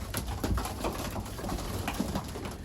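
Pigeons in a young-bird loft for grizzle breeding coo softly and continuously, layered low calls over a steady background, fairly close and with no talking.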